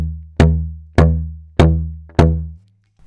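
A didgeridoo played with tongue drops that give drum-like pulses, four strong evenly spaced attacks over a sustained low drone, each fading before the next, close and loud.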